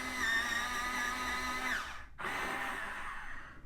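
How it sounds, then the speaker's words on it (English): An electric sharpener grinds a light beige coloured pencil, a steady loud whir for nearly two seconds, a brief pause, then a second continuous grinding burst; no talk. "I'm going to give that a bit more of a sharpen."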